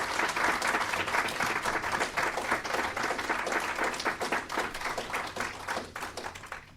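An audience at a Tabletop Scotland 2019 world-building seminar applauds the panelists. Many hands clap in a loud, close, dense burst that slowly thins and fades toward the end, with a brief spoken word near the start.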